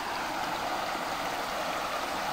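A river flows with a steady, unbroken rush of water that fills the whole moment, with no voices or other sounds over it.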